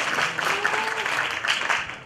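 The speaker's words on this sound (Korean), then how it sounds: "큰 박수 부탁드립니다" Applause from an audience at a university graduate-school teaching demonstration contest, a steady wash of clapping that stays moderately loud throughout with no voices over it.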